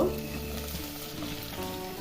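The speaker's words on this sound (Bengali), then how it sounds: "তেলটা গরম হয়ে গেছে, এবার আমি পটলগুলো দিয়ে দিব" Spiced pointed gourds dropped into hot mustard oil in a pan give a steady, soft sizzle with a faint clink at the start, continuing evenly for two seconds.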